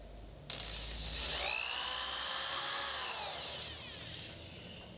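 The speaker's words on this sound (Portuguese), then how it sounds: "Vamos fazer um furo da espessura aqui do MDF, que é um de 15" A power drill boring a hole through 15 mm MDF board while repairing a broken bed, a steady high-pitched whine that bogs slightly in pitch as the bit cuts, close and alone.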